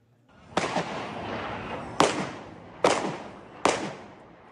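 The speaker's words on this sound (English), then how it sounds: "Gunfire rings out for nearly 10 minutes as 3 attackers open fire outside the building that houses the Israeli consulate in Istanbul." Gunfire from attackers outside the building housing the Israeli consulate in Istanbul: four sharp, loud reports spaced roughly a second apart, each ringing out with a long echoing decay between shots.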